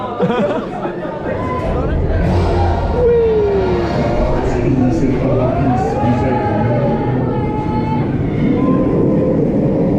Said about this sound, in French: il y a Château dans le train qui passe en dessous